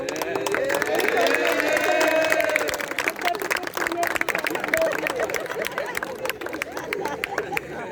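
Audience applause for umpires and referees at an inter-school sports felicitation ceremony, a loud sustained clapping that fades over several seconds under crowd chatter, with a voice speaking over it.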